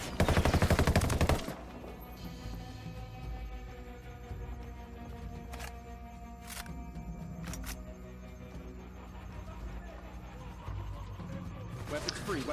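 Gunfire in the Ghost Recon video game: a loud burst of shots opens the clip, then a few sharp isolated reports and a brief burst near the end over a steady game ambience and music bed.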